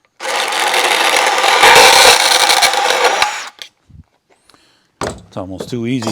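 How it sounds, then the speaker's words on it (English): An electric hacksaw cuts through wood for framework on a vardo gypsy wagon, a loud, steady buzzing saw run of about three seconds, followed by brief knocks and someone speaking briefly. "Going to cut it with, I love this little tool. I bought this about a year ago, just an electric hacksaw, basically."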